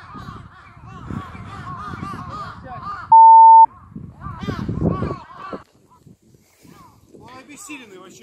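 Crows caw harshly in the open, several calls overlapping as a group. People talk near the recorder over the cawing, and a short electronic beep cuts in partway through.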